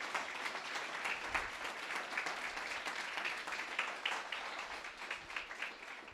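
A church congregation applauds together, a faint, steady patter of many hands clapping at a distance with some fluctuation, and no clear speech over it.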